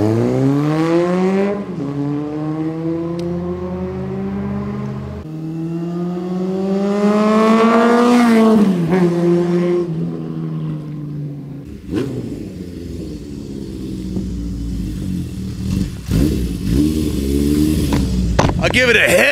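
A 1971 Honda CB750K1 motorcycle engine revs up in rising whines and drops between gear shifts, runs close and loud, then settles into a rough, uneven idle.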